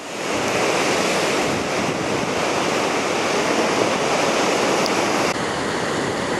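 Surf breaks steadily against the rocky side of Palolem beach in Goa, India, at sunset: a loud, continuous wash of waves with some wind noise and no voices.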